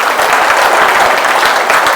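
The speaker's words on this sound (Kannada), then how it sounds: "ಅವ್ರಿಗೊಂದು ಜೋರಾಗಿ ಚಪ್ಪಾಳೆ ಹಾಕಿ, ಜೋರಾಗಿ." A large audience applauds loudly and close by at a de-addiction camp gathering, a thick, continuous roar of many hands clapping throughout.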